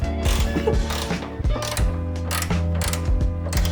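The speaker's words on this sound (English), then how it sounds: "I gotta torque these down to spec." Ratchet tightening bolts on a Cusco strut bar in a Toyota 86 engine bay, giving repeated close clicking pawl strokes in a steady rhythm, with bursts of metallic ratcheting and no talk.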